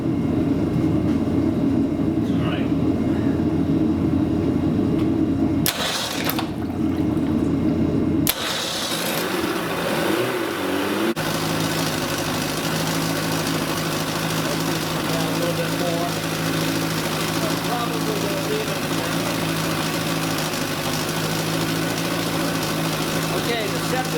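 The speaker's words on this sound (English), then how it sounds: "We're going to fire it up and drop it back and get it to give us about 600 RPM." A freshly rebuilt early Mercury Mk 55 outboard engine runs steadily at a low idle, a loud continuous drone that briefly cuts out partway before resuming, with people talking over it.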